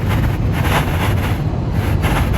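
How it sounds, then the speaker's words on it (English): Strong wind buffets the microphone in a continuous loud roar, with gusty surges and no voices. "It is really, really windy."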